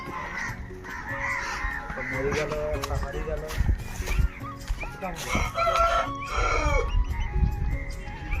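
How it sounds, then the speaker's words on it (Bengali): Fighting roosters in a small Sundarbans village crow and cluck repeatedly amid outdoor background noise. People talk over the birds throughout. "আর মোরগগুলো দেখতে পাচ্ছ, এগুলো সব লড়াইয়ের মোরগ।"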